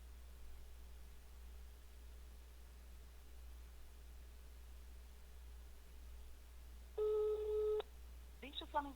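A phone call rings out toward voicemail, a faint steady background hum followed by a brief ringback tone near the end and then a short burst of a recorded voice, all quiet and distant.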